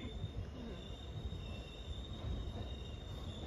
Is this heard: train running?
yes